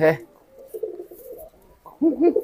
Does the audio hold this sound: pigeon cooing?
yes